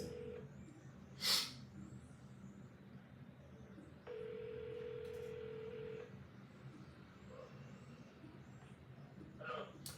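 A phone dials out to a realtor with a short burst of keypad tones, then a steady electronic ringback tone for about two seconds, quiet and close, with faint breathing and a voice around it.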